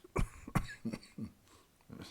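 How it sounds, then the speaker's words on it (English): A person coughs several times in short, sharp bursts, fairly close and moderately quiet, with brief gaps between coughs and a faint throat sound at the end. "I think I must stop the video because I just want to cough all the time."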